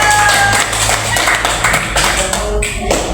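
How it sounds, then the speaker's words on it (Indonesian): A classroom group gets a round of applause: many hands clap together in a steady, dense patter that fills the room, close and loud with no talk over it. "Tepuk tangan dulu kelompok 3."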